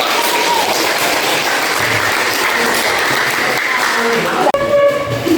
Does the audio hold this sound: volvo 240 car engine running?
no